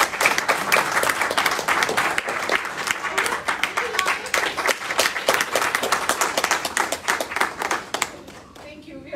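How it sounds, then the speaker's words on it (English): A live audience bursts into a sustained round of applause for two presenters at a meditation talk, dense clapping filling nearly the whole stretch before thinning out at the very end. "let's have a round of applause for both the presenters"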